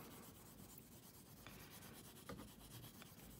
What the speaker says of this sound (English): I'm just sanding out the scratches.